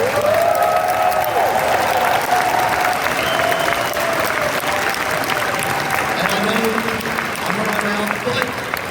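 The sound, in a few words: audience applause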